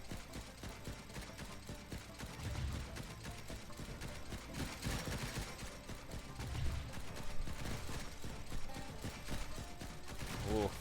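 Flak cannons in the video game Stranded: Alien Dawn firing in rapid bursts, a dense clatter of shots and mechanical thumps over steady game sound, with a voice talking at times.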